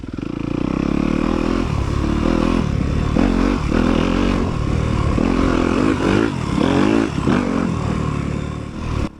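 A dirt bike in a harescramble race at Windwood Farms roars past nearby, its loud engine snarling and revving steadily for several seconds before dropping off abruptly.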